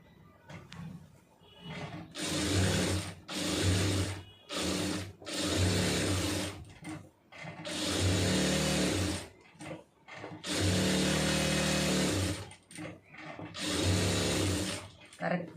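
A sewing machine stitches a blouse in repeated bursts of rapid mechanical whirring, each a second or two long, separated by short pauses, loud and close, with no talking.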